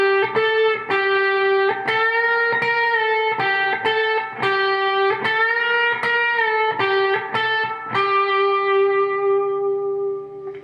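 A solo on distorted electric guitar, played slowly: a steady run of sustained, evenly spaced picked notes, close and loud, with no voices.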